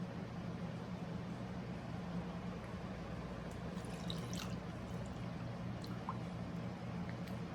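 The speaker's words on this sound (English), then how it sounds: "Now I'm gonna add some lemon water to get the rest." Lemon water being poured, a steady, fairly faint stream of liquid running continuously for several seconds with an even trickling texture and no voices.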